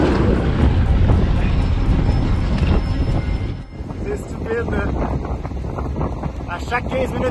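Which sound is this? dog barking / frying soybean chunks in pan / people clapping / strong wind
strong wind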